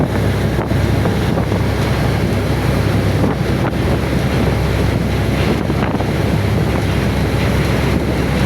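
Strong wind buffets the microphone over the rushing wash of ocean waves against a moving boat at sea off Batangas, Philippines, a loud, continuous roar with no voices.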